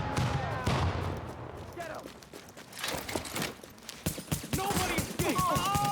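Scattered gunfire in the video game The Division 2, sharp cracks and short bursts mixed with game effects and tonal chirps, moderately loud throughout.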